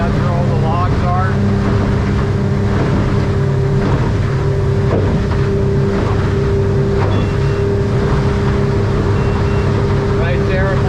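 A 2025 Stabicraft 2350 boat cruising under a Yamaha F300 outboard, a loud, steady engine drone with hull and water noise, and someone talking over it.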